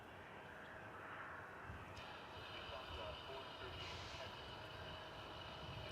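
An Airbus A330-300 airliner passes at DFW Airport as a steady, distant roar of jet engines that rises slightly in the latter half and continues throughout.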